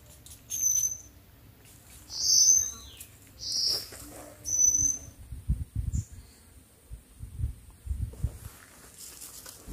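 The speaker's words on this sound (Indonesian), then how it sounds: "bunyi burung-burung hutan yang bernyanyi nyaring setiap saya beristirahat" Forest birds on a mountain trail on Mount Slamet call in several short, shrill bursts that stand out clearly over quiet surroundings, with soft rustling and low thumps between the calls.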